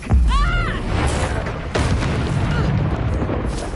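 A Bombarda spell detonates in Hogwarts Legacy with a loud, close blast, a rumbling boom opening the moment and a second burst following, under brief vocal sounds and continuing battle noise.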